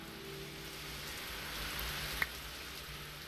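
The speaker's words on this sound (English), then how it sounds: "Get rid of this rain" Steady rain falling in the fantasy video game, a broad even hiss of drops on surfaces that persists throughout, with a single sharp tick near the end.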